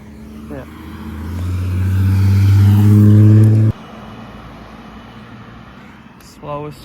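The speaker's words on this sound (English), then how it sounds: "Slowest cars I've ever seen in my life." Two cars roll slowly past close by, a deep engine rumble swelling to a peak and cutting off sharply, then a quieter vehicle hum with faint voices nearby.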